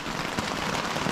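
Heavy rain pounds steadily on a tent in a Florida forest at night, a dense, continuous patter that fills the clip without any talk.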